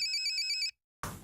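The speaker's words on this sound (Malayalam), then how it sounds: "ഫോൺ അടിക്കുന്നു." An electronic telephone ringtone trills in a rapid, repeating pulse for under a second, then cuts off abruptly into silence before a short burst of noise.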